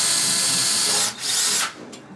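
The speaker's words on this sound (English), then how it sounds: "I'm just drilling a hole slightly smaller than that" A power drill bores a pilot hole into masonry for screws, a loud, steady grinding whine that dips briefly and then resumes, close up, with no voices.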